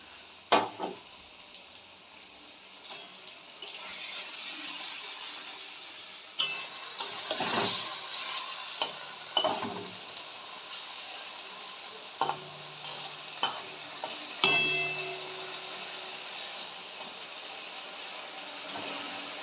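Poppy seed paste and a little water cook with pointed gourd in a pan, a soft simmering sizzle under intermittent stirring scrapes and light taps of a spoon, fairly quiet and close.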